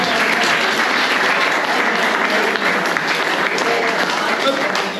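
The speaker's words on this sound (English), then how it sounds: "Round of applause for them." Loud, continuous applause from a crowd at a football club's end-of-season awards presentation night, many hands clapping in a thick, unbroken wash from start to finish.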